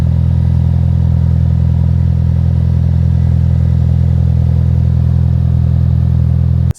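A 2021 Ford Bronco with a Roush exhaust and added cold air intake idles close by, a steady, loud low rumble holding evenly throughout before cutting off abruptly at the very end.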